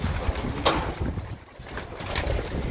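Racing pigeons coo softly around a loft as they are let out to fly, the calls repeating in short pulses over breezy outdoor noise.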